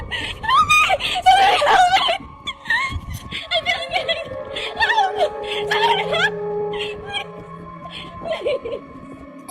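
A woman screams loudly in repeated shrill bursts, very close, giving way to whimpering and breathy cries with gaps between them.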